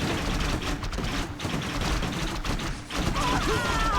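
Warcraft III Reforged battle with archers firing: dense overlapping thumps, clanks and impact noise form a continuous loud mix of combat effects.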